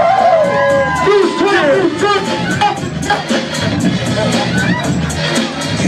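A crowd at a hip hop karaoke night cheers and whoops after a performance. Excited voices and babble form a busy, close mix, with shouted talk over it.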